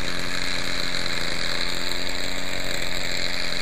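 A Quickie 18 saw engine with a hard-starting fault runs at a steady, loud, buzzing drone, close by and unbroken, with a faint rattle under the tone and no talk.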